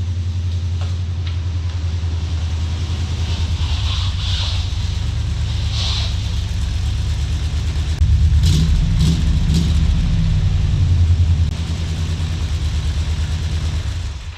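A 1978 Corvette engine idles with a lopey camshaft, its deep uneven rumble loud and close throughout, with a side pipe rattling and metallic ticks that rise briefly as the idle swells midway.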